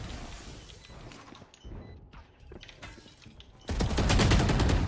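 Gunfire rings out in a Valorant match, first as scattered shots and clatter, then as a loud, dense burst of rapid fire near the end.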